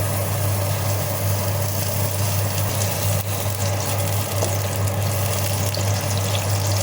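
Chopped onion sizzling in hot oil at the start of a bitter gourd dal, a steady close crackling hiss with a constant low hum underneath, no voices.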